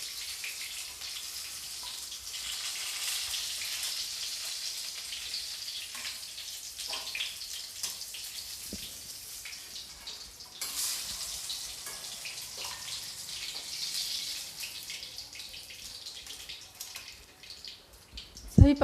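Jackfruit pakoras frying in hot oil, a steady hissing crackle that runs throughout with a brief clatter near the end.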